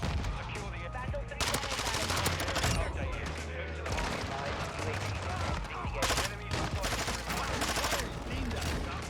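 Vaznev-9K gunfire in the video game Modern Warfare 2, near-continuous rapid automatic bursts with dense overlapping shots and other game noise throughout.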